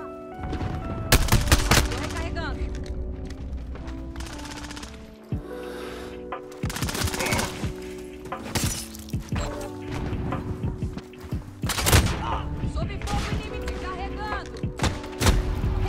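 Bursts of video game gunfire crack and rattle in rapid volleys, some single shots and some sustained fire, loud and close with brief pauses between.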